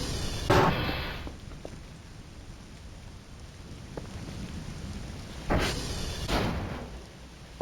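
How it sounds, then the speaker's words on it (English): Steady rain patters outside in Voices of the Void while several loud thunder cracks strike, one early and two more close together later, each rolling off into the downpour. "It's raining and thundering outside right now."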